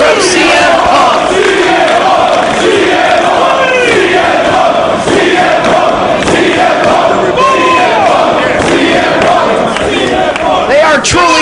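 Wrestling fans cheer and shout for CM Punk, a loud, dense arena crowd roar that holds steady throughout, with whistles and individual yells rising above the din.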